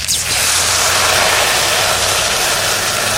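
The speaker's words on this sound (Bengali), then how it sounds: "মাছ ভাজা হয়ে গেছে, এই ভাজা মাছের মধ্যেই জল দিয়ে দেবো।" Water poured into a hot pan of fried fish bursts into a loud, continuous hiss that stays strong and even for a few seconds with no talking.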